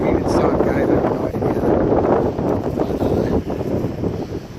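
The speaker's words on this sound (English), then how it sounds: "The wind is really picking up, especially coming at me." Strong wind blows outdoors on a cloudy day, roaring and buffeting loudly against the microphone in uneven gusts throughout.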